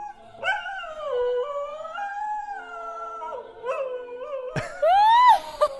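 A six-year-old greyhound howls in long, wavering, sustained tones that slide up and down in pitch, rising to a brighter, higher howl near the end, loud and close with no talking.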